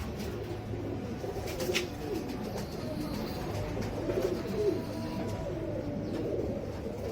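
Salara Teddy pigeons, a group of breeder pairs including old males, coo in soft rolling murmurs, steady and close, with faint chirps over a low ambient hum.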